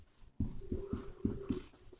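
Chalk or marker writing on a board during a class 12 matrix lesson, a run of five or six quick scratchy strokes spaced across two seconds, close and clear with no talk.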